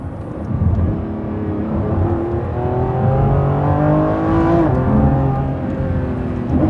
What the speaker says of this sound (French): Ce son, cette mélodie même je dirais, eh bien c'est tout simplement celle d'un V12 qui équipe la Lamborghini Revuelto